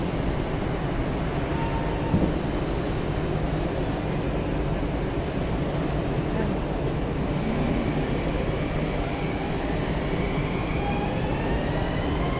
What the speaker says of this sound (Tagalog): Ayan ito ang tren, railway.